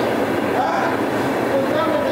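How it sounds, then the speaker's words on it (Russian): A new suburban electric train on the Krasnoyarsk railway fills the clip with a loud, continuous rumbling roar and faint tonal whine, heard up close without any clear talk. "Вот она, новая электричка."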